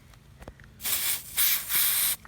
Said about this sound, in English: So spray it towards the end roughly.